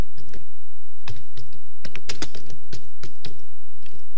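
Rapid clattering keystrokes on a computer keyboard as HTML code is typed, irregular bursts of close, crisp clicks with brief pauses between them.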